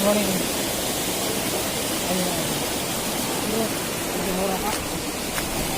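Patohora waterfall at Harichandanpur roars as a steady, dense rush of falling water, loud and constant throughout, with faint voices murmuring underneath.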